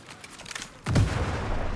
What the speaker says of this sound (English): I heard an explosion.